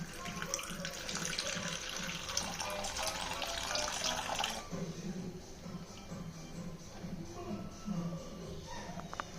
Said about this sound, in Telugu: ఇగో నీళ్ళు వేసుకుని నేను కలుపుకుంటున్నాను.